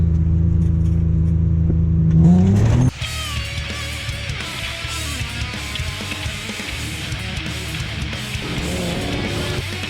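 A Honda Civic fitted with a swapped V6 screams up through the revs during a gear pull, a loud climbing engine note that cuts off sharply after about three seconds into a steady whirring rumble and road noise.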